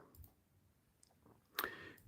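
A computer mouse clicks softly a few times, with faint light ticks early on and a sharper, louder click near the end in a quiet room.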